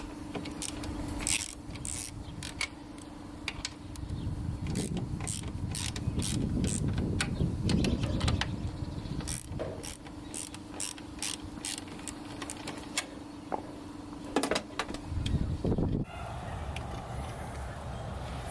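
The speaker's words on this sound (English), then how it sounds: "So 13 mil, remove these 3 bolts." A ratchet clicks in quick bursts while loosening 13 mm end link bolts on a 2001-2007 front-wheel-drive Volvo S60. Runs of sharp, close ticks alternate with pauses over a low steady hum, with no one speaking.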